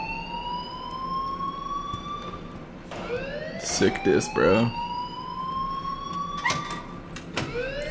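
A school alarm in the video game Life is Strange wails with rising and falling tones, loud and sustained behind someone talking.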